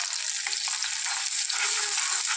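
Potatoes with chopped onion and garlic fry in oil, a loud, continuous sizzle with faint stirring clinks underneath and no voices.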